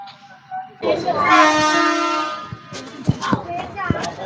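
A train horn sounds loud and near on the Ooty mountain railway, a long sustained blast followed by rumbling and clanking of the carriages on the tracks.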